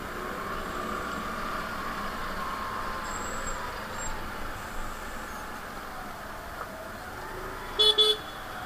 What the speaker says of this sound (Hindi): ट्रैफिक चालू हो गया, 2 बज गया ना, ट्रैफिक चालू खाना में 2 बज जाता है, फुल ट्रैफिक चालू हो जाता है।